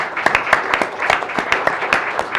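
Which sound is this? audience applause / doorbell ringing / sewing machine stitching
audience applause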